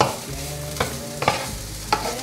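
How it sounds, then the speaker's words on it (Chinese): Potatoes being stir-fried in oil in a wok, a steady sizzle under a few distinct scraping stirs of the spatula, close and fairly quiet, with no voices. "快翻炒。"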